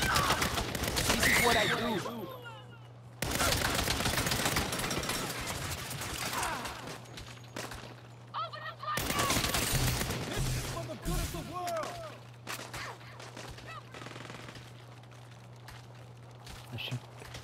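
Gunfire from the player's weapon in the Saints Row video game, bursts of shots and impacts over a steady low hum, with someone talking between and over the shooting.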